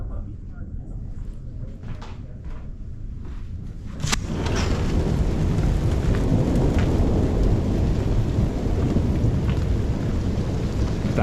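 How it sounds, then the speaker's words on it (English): A thunderstorm with rain and ice: light patter gives way to a sudden sharp thunder crack, followed by a loud, dense rumble and heavy rain that continues to the end. A voice can be heard faintly. "That's thunder."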